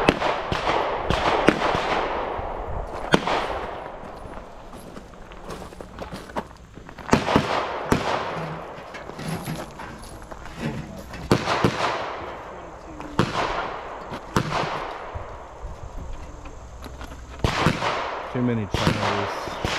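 Pistol shots ring out at a USPSA shooting match stage, sharp cracks fired in quick bursts and irregular strings, some far off, with someone talking between them.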